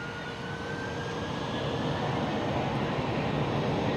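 A TUI Boeing 787 Dreamliner jet at Amsterdam Schiphol produces a steady broadband roar with a thin whine that slowly drops in pitch, moderately loud and even throughout.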